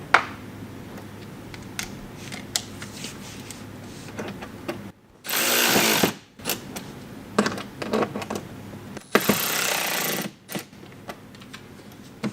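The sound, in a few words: power tool tightening screws on BMW X3 mud flap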